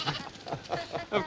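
A sheep bleats several times in quick, wavering cries, fairly close and clear with nothing else around.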